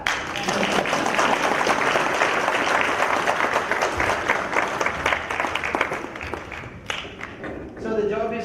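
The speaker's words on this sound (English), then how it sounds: "Come on, clap." A lecture audience claps through a health talk at Secunderabad Railways, dense steady applause that thins near the end as a voice speaks over it.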